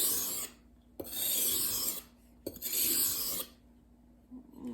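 Kitchen knife drawn over a wet 1000 grit water stone, two long gritty rasping strokes with short pauses between, close and fairly loud with no talk.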